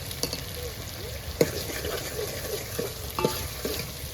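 Red onions frying in a pan for a crab and lepta dish, with a steady low sizzle and scattered scraping clicks from a spoon stirring them, close and moderately quiet.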